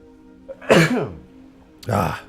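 Two sharp nasal bursts close to the listener, a sneeze followed by a second shorter one about a second later.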